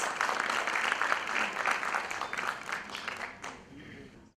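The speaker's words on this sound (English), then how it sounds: "Let's welcome him with a round of applause." An audience at an alumni conference applauding warmly, sustained clapping from many hands at a moderate distance, tapering off and stopping.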